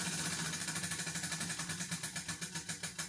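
A prize wheel spinning with a rapid, steady ticking from its pointer, the clicks close and even, gradually spacing out slightly as it slows.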